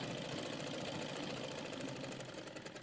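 A sewing machine hums steadily and closely as it stitches a straight side seam on a kurta, a fast even whirring drone with no pauses and no talk.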